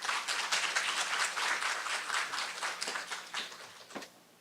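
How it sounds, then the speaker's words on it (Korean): Seminar attendees clap to welcome a session chair at a livestock research symposium, a full, even round of applause that thins into a few last claps and fades out. "박수로 맞이해 주세요."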